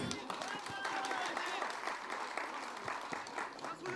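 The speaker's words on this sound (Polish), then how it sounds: "Państwo będziecie nagradzać ich brawami" Spectators at a lower-league football match between MKS Janowianka and GKS Górnik II Łęczna applaud steadily throughout, a dense crowd clapping heard at moderate distance, with a voice speaking over it.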